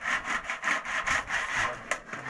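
Zinc roofing sheet for a caravan's curved standing-seam roof being cut, giving a steady series of rasping, saw-like strokes in an even rhythm, close and fairly loud, with no talking.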